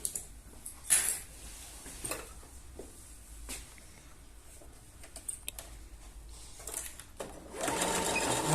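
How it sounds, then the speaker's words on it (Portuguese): A sewing machine stitches patchwork fabric, its faint, ticking mechanical run broken by short bursts and handling noises, with a louder steady stretch of stitching at the end. "eu vou começar sempre costurando de cima para o volume"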